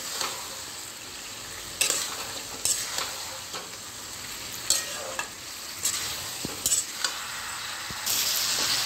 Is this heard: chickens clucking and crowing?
no